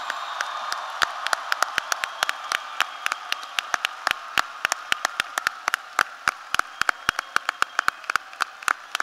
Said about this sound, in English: Please give a round of applause for the families of the class of